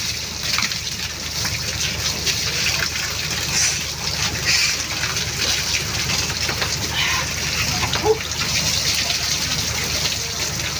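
Spring water pouring steadily in an outdoor shower, a continuous broadband gushing and splashing that stays even and fairly loud throughout, with no voices over it.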